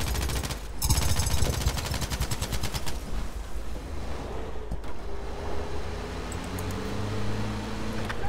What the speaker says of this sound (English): The bullets go.